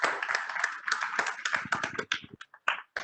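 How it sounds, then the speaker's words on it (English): A seminar audience claps in quick, scattered hand claps that start dense and thin out into a few separate claps before fading, heard close and moderately loud. "Please put him a big round of applause."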